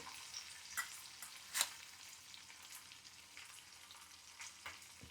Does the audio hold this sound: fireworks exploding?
no